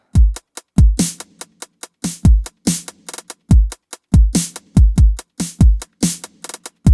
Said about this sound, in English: we get this new kick drum pattern.